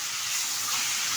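A catla fish head, salted and turmeric-coated, frying in hot oil, giving a dense, even hiss of sizzling that stays close and loud throughout the short stretch, with no voices.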